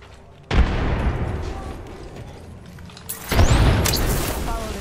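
A frag grenade in Apex Legends solos bursting with a loud, close boom and rumbling tail, followed by a second heavy blast with crackling debris in the game's sound effects.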